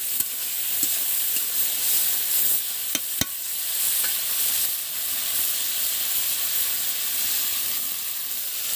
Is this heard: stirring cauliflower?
yes